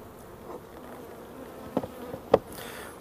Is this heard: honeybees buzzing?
yes